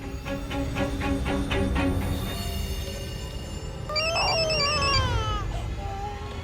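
Telephone ringback on a dialed call, heard as repeated tonal pulses over a low background hum, followed by a brief warbling electronic tone.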